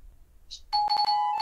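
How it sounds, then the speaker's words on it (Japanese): A doorbell chime in a video game rings repeatedly in quick succession, bright and loud, stacking into a continuous ringing after a brief soft ding. "誰かが鬼チャイムしてるぞ"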